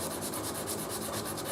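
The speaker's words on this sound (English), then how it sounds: "So it's just hand sanding from here on in to get this thing prepared for finishing" A bass guitar body is being hand sanded in a workshop, giving a quick, even rhythm of close, scratchy rubbing strokes that carries on throughout.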